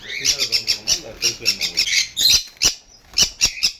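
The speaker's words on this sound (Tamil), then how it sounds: "பறவைங்களே சத்தம் போட்டு டிஃப்ரெண்ட் சவுண்டு கொடுத்துருவாங்க" Loud, close caged birds squawk in alarm at a cobra in their cage, shrill and harsh fast repeated bursts, with a brief lull before another rapid run of calls.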